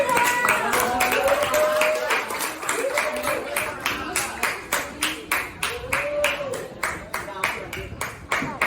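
Classroom applause for a presenting group, a burst of many hands clapping that settles into rhythmic unison claps near the end, loud and close, with a voice speaking over the start.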